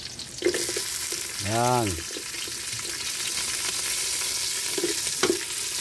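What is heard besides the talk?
sautéing onions in a pan for pork adobo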